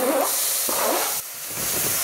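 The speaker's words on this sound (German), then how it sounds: "In die Pfanne kommt jetzt meine Zwiebeln und mein Knoblauch." Onions and garlic go into a hot pan for a chicken curry and sizzle with a loud, steady hiss, close by, with a brief dip partway through before the frying noise swells again.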